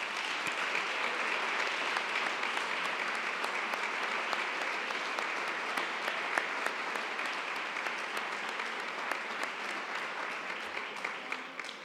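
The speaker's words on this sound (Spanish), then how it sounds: "Este aplauso va para vosotros." A crowd at a town hall ceremony honouring athletes keeps up long, even applause, a dense crackle of many hands heard at a distance with no voices over it.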